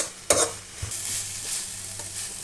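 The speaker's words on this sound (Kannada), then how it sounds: "ಈಗ ಈ ತುಪ್ಪದಲ್ಲಿ ನೀಟಾಗಿ ಹುರ್ಕೋಬೇಕು." Grated carrots for carrot halwa being stirred in hot ghee make a close, gentle hiss, with a sharp scrape of the utensil near the start and softer stirring strokes following, and no one speaking.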